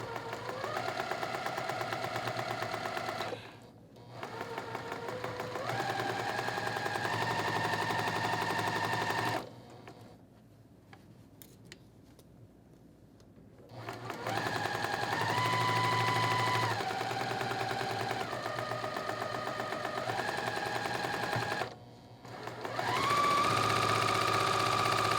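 A sewing machine stitches quilt fabric in long steady runs, buzzing at a constant pace with brief pauses between bursts and one longer stop midway, close and fairly loud.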